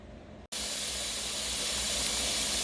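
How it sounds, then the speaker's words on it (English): Steam hisses steadily from a pressure canner kept at 10 pounds with about 2 quarts of water, a loud continuous rushing hiss that starts abruptly after a brief silence and runs unbroken. "my steam is coming out already"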